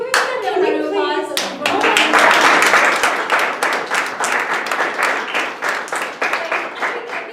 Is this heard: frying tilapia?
no